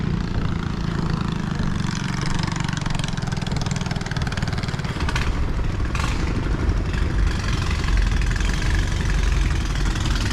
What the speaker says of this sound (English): they use this little engine on the back here for steering in reverse